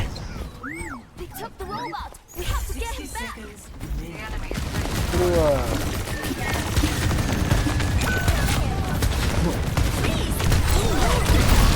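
Rapid gunfire and bursts of combat noise fill a match of the shooter game Overwatch 2, dense and continuous under a player's excited voice, with game effects and chatter mixed throughout.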